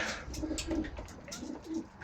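Soft, low pigeon cooing repeats in a steady rhythm against a busy background murmur, close by and moderately quiet.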